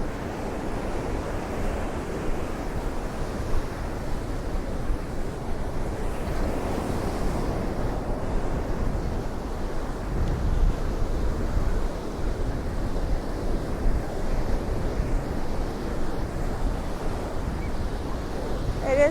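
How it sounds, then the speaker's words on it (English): Strong wind roars steadily at a Florida beach in St. Pete Beach, with heavy buffeting on the microphone and surf blended into a continuous rumble for the whole stretch, no clear speech. "It is very windy"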